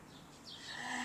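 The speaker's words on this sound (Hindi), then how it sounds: "चिड़ियों की आवाज़ें बहुत हैं" Birds chirp faintly outdoors: a few thin, high calls rise over a soft, steady background hush, with no voices.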